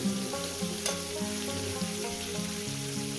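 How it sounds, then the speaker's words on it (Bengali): Pointed gourd with onion and green chilli fries in oil. A steady, close sizzle runs throughout, and one brief stir-clatter comes near the start. "এবার এটাকে সুন্দর করে আমি ভেজে নিই মিনিমাম আরও চার পাঁচ মিনিট ধরে"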